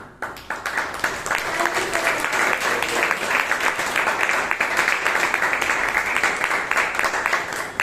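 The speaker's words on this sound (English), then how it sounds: "Once again, a thunderous round of applause for our tag team." Audience at a Toastmasters club meeting in Bangalore breaks into sustained applause, a dense, even wash of many hands clapping close by that builds quickly and holds steady throughout.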